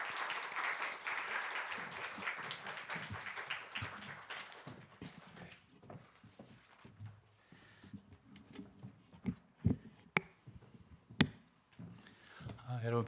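Church congregation applauding to welcome a guest speaker at a church officers' seminar, a fairly loud burst of clapping for about four seconds that thins into scattered claps, shuffling and knocks.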